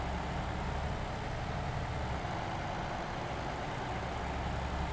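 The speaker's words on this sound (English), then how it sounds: "They just sound naff, these Scanias, don't they?" Scania bus engine idling in OMSI 2, a steady low diesel drone with a broad hiss, continuous and fairly even throughout, no talking.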